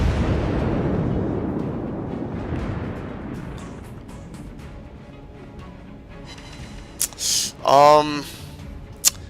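Battleship main guns firing shells in a naval video game give a deep, rumbling blast that fades away, followed by a few sharp pops and a brief whooshing burst near the end.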